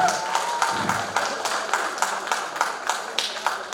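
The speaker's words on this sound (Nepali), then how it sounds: "उहाँको लागि एकचोटि जोरदार हौसलाको ताली बजाइदिनु म हार्दिक अनुरोध गर्दछु" Audience applause for a singer's performance at a singing competition grand finale, steady clapping with rhythmic peaks sustained throughout, fairly loud and continuous.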